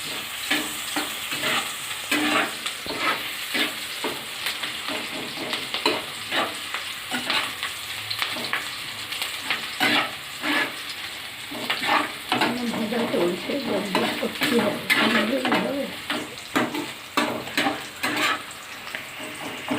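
Red amaranth greens stirred and frying in a pan, a steady sizzle broken by frequent scraping strokes of the spatula, close and fairly loud, with no talking.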